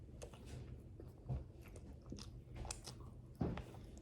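Someone bites into and chews candy from a gingerbread house, including marshmallow, producing soft crunches and wet chewing sounds close to the mic, with one sharper crunch near the end.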